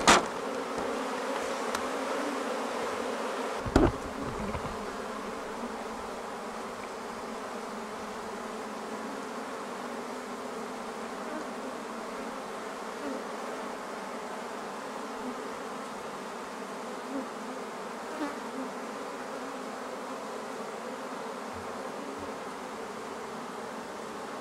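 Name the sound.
swarm of bees buzzing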